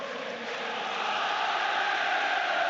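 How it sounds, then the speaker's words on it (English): A dense, continuous roar rises steadily from a packed football stadium crowd in Glasgow during a Rangers versus PSV Champions League play-off first leg, loud and unbroken with no other sound on top. "you just listen to this crowd, it's hard to even hear yourself talk"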